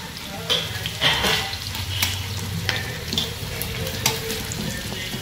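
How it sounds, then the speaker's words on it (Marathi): A whole large onion frying in a pan for bheja fry gives a continuous close sizzle with spitting crackles and a few louder pops, and nothing else is heard over it. "भेजा फ्राय करूया. भेजाला घातलेला आहे आपण हा एक मोठा कांदा अख्खा."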